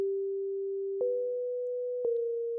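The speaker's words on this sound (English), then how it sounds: "that's just the default wavetable, by the way, playing the sine wave" A pure, steady sine tone from Ableton's default wavetable synthesizer holds, then steps to slightly higher notes twice, each change marked by a soft click.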